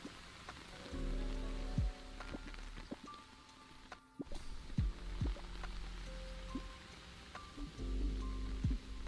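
Steady rain falling in a video game laundromat scene, a continuous wash of patter with a few low thumps and tones over it, close and even throughout.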